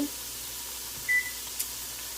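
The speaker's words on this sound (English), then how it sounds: "I'm also going to get my oven going" A kitchen oven being switched on gives a single short electronic beep, clear but modest in level over a quiet room hiss, followed by a faint click.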